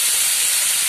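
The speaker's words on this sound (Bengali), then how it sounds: "এবার দিয়ে দিলাম পেঁয়াজ বাটা।" Onion paste hits hot oil for an egg korma and makes a loud, steady sizzling hiss that fills the whole brief moment.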